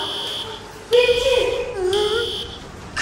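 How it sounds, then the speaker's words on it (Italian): Electronic sauna alarm sounding in intermittent steady buzzing tones that start and stop, with people talking loudly and urgently over it at close range. "questo è l'allarme della sauna?"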